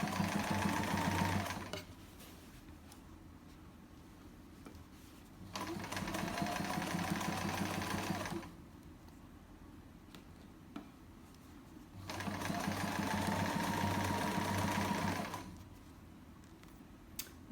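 A sewing machine stitches fabric for a chair pouch, with reverse stitches before going forward. It runs in three steady bursts of whirring, with quiet pauses between them.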